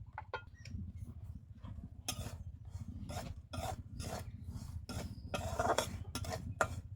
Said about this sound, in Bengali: সুজিটাকে আমি এক থেকে দেড় মিনিট শুকনো খোলায় ভালো করে একটু নাড়াচাড়া করে নেব